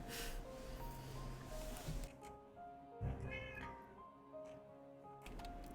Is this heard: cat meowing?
yes